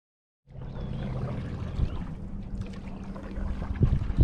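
Canoe paddling on the Wisconsin River, with steady water wash and wind noise throughout and a few louder splashes and knocks toward the end, close to the microphone.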